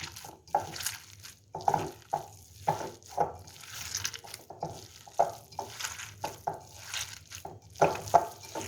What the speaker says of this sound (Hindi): लौकी को और चिकन को और इन तमाम स्पाइसेस को जो है बहुत अच्छी तरह अपने हाथों के साथ मिक्स कर लेना है